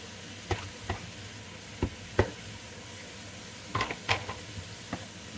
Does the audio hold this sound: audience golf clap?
no